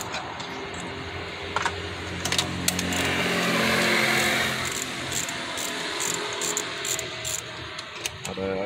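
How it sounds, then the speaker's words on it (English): Ratchet socket wrench with a 14 millimetre socket and extension loosening spark plugs on a Nissan, quick clicking ratchet bursts near and fairly loud, interrupted by a smoother mechanical whir mid-way over a faint engine-bay background. "So for the plug, you need a 14 millimeter socket for the plug and an extension socket."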